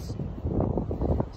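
Wind gusting across an open lakeside area on a sunny, breezy day, a steady low buffeting roar with microphone rumble that swells in waves throughout.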